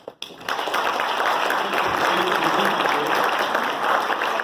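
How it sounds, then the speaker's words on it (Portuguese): An audience in an auditorium at an opening lecture breaks into sustained, dense applause that holds steady for several seconds after a brief lead-in. "Eu queria uma salva de palmas"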